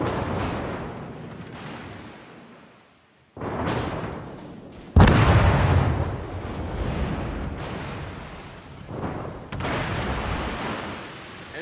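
Heavy naval guns boom in a World of Warships clan battle, with several loud blasts and rumbling bursts rolling through the clip, the biggest near the middle, over continuous sea-battle ambience.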